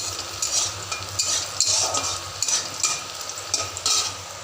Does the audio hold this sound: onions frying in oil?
yes